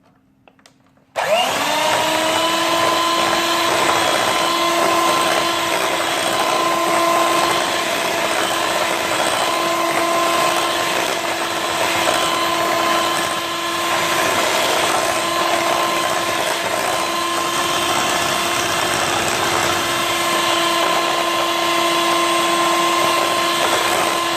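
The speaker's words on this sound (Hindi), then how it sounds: "फिर थोड़ी देर बीटर चलाएंगे" An electric hand beater whirs steadily as it mixes butter and eggs into cake rusk batter, a loud continuous motor drone that starts abruptly and holds for the full length with slight pitch wavering.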